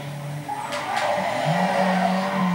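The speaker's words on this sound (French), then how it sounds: "je peux vous faire un petit drift" Game car in Need for Speed Most Wanted sliding into a drift, its tires squealing sharply over a loud, climbing engine note for a couple of seconds.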